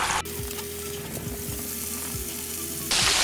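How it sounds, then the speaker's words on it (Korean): Boneless chicken thigh pieces frying in hot cooking oil for lemon chicken, a steady close crackle and sizzle with occasional clinks from a utensil. "두 번째 고기를 튀기겠습니다"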